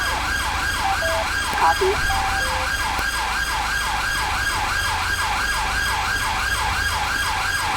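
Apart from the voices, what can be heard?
police sirens left on in GTA 5 police mod, a video game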